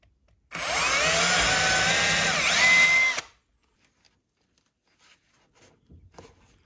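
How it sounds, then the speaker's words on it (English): A power drill bores into a new planter inside a Polycrub greenhouse, one steady whining burst of about three seconds that rises slightly in pitch near the end, then stops and leaves quiet room tone. "I'm just going to drill this next bit."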